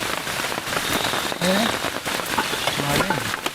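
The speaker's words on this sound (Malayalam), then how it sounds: "അകത്തുനിന്ന് എന്താ മഴ അല്ലേ? നല്ല മഴ കേട്ടോ." Heavy rain pours steadily onto a surface in a forest campsite, a dense close hiss, with voices talking briefly beneath it.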